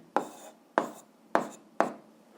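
A pen writing an algebra answer on paper, four crisp, evenly paced scratches heard close up in quiet surroundings.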